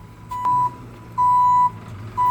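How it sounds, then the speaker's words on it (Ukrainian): A garbage truck's reversing alarm sounds three steady electronic beeps, each long and evenly spaced, over low street rumble at moderate distance. "Це сміттєвозка."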